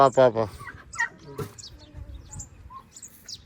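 A rooster calls with loud, harsh squawks at the start, followed by quieter clucks and chirps, with people talking nearby.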